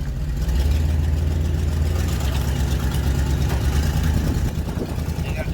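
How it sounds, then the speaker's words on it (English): A utility power truck idles near a new RV park being connected to power, a steady low diesel rumble running throughout at close range. "They got the power trucks there."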